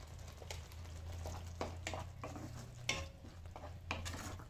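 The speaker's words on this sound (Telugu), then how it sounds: "ఇది కొంచెంసేపు వేయించుకోవాలి." Masala with salt and turmeric frying in a pan for egg masala curry, a soft sizzle under repeated spoon stirs and scrapes, with a low steady hum running beneath.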